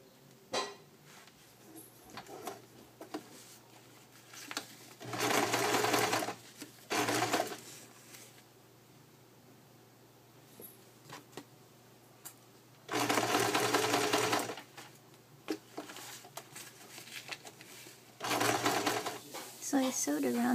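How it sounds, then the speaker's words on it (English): A sewing machine stitches fabric close to a traced line for a cosplay lighting piece, running in three steady buzzing bursts of a few seconds each, with quiet handling and a voice heard in the gaps. "So now I'll sew just like really close to this traced line"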